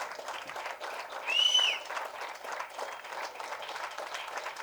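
Sustained applause from an audience at an event honouring social activists with actor Karthi, a steady wash of clapping that swells briefly near the middle, with a high whistle-like tone.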